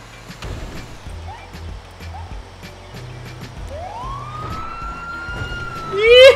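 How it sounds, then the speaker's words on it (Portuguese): A siren in GTA roleplay wails and rises in pitch, growing louder toward the end, over a low engine rumble and scattered clicks. "Tô ouvindo barulho de sirene"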